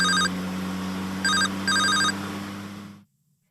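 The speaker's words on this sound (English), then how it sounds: "and then the phone rang" A telephone bell rings in short bursts over a steady low engine hum, which cuts off abruptly near the end.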